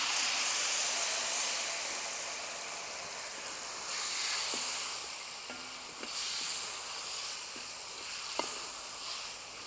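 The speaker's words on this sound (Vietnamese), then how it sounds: "mình cho hết tô nước me vô." Tamarind sauce poured into a hot pan of fried garlic and shallots sizzles loudly, a steady close hiss of frying and steam with a few faint clicks of utensils.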